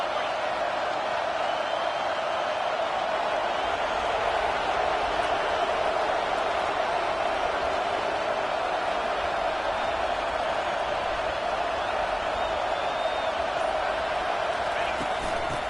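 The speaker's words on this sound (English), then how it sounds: "Third down, and this crowd is tearing the lid off this place." A stadium crowd roars in the Madden football video game, a dense, unbroken wall of cheering and noise that holds at high volume throughout.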